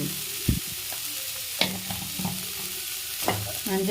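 Avarakkai beans sautéing with turmeric powder in a pan over low heat, giving a steady soft sizzle with a few distinct spoon knocks and scrapes, close up and without speech.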